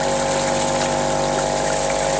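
Steady rushing gush of water pouring through a PVC trommel's recirculation syphon tube and over a chamber wall, a continuous close, even flow with no talk.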